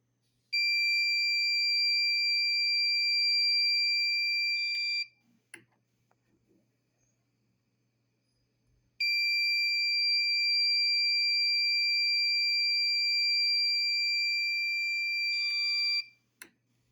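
Arduino alarm buzzer built for a lesson on using switches, sounding a steady high electronic tone that stops abruptly, leaves a few seconds of near silence with faint clicks, then sounds again for about seven seconds before cutting off.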